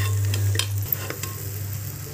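Mixed vegetables for bhogichi bhaji, with crushed peanuts, are sautéed in a pan: a soft steady sizzle with light stirring clinks over a low background hum.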